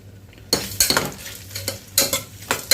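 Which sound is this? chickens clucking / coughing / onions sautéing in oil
onions sautéing in oil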